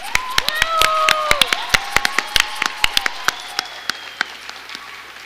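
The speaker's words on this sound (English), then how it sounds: "can we please give Shreya and Shriya one more well-deserved round of applause?" A thinning audience at a classical dance debut gives a round of applause for two young dancers, sparse distinct claps ringing out and tapering away, with a few voices and whoops mixed in.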